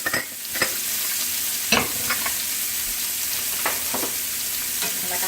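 Mushrooms and onions frying and being stirred in pan drippings for blackened shrimp pasta, a steady close sizzle with scraping stir strokes, no talking.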